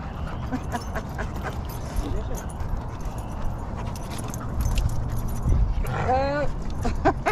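A gangly young dog makes low growls and whimpering yips close by, mixed with jangling and a person talking throughout.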